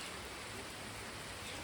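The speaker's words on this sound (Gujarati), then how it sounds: "વરસાદ ચાલુ છે" Steady, faint rain falls outdoors near Dharoi Dam during an overflow, a soft, even hiss with no talking and no distinct drops.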